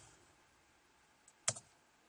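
A few quick, quiet keystrokes on a laptop keyboard land in a short cluster, with one sharper click standing out against near silence.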